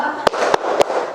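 Three crisp unison claps from a class of students doing a rhythmic clap chant, evenly spaced and loud against a faint room murmur.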